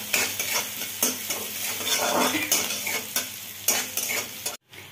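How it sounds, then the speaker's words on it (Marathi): Loud sizzling of chopped green chillies frying in ghee in a hot pan, with repeated scraping strokes of a spoon stirring, rhythmic and close, ending abruptly. "तर मिरची जी आहे ती व्यवस्थित भाजून झाली आहे"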